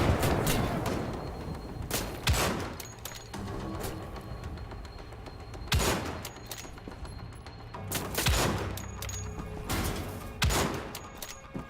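A grenade blast and gunfire in a first-person shooter video game, heard as loud broadband bursts and cracks at irregular intervals over a dense, busy game mix, with no voice on top.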